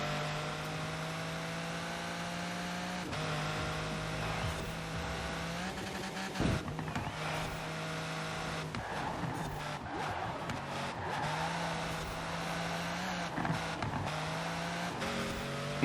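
Pagani Zonda Cinque engine accelerating in the video game Forza Horizon 4, a steady, quiet engine drone that shifts pitch through several gear changes.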